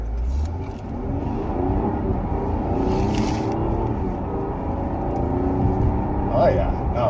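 A 2024 Mazda CX-90 Signature inline-six mild hybrid accelerates hard in sport mode, heard from the cabin as a steady low rumble with a smooth rising drone, while occupants chat over it.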